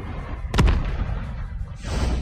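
A single sharp blast rings out, followed by a rumbling, noisy battle ambience of game gunfire.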